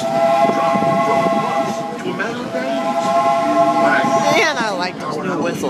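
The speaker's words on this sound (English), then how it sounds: "from the comfort of a genuine steam-powered train" A steam train on the Disneyland Railroad runs at night with steady rumble and tonal whistle-like hums, voices talking over it, and a sweeping horn near the end.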